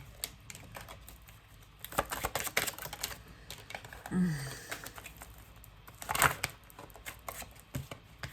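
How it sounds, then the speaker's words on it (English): Cards riffle and flap in quick crackling bursts, close up and fairly quiet, with a few sporadic taps and shuffles in between; the cards were wet and stick together in chunks. "It's like I barely got these cards wet and now they just don't shuffle right."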